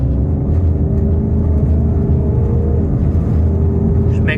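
Ford Mustang engine running in 4th gear with paddle-shift upshifts around 3,000–4,000 RPM, a steady, loud low rumble heard from inside the cabin with little change in pitch.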